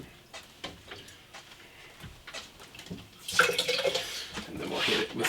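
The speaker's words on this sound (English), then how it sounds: "I'll wash out the French press as well." Tap water runs and splashes while rinsing out a French press in a kitchen sink, starting after a few light clinks and knocks and then flowing steadily and fairly close.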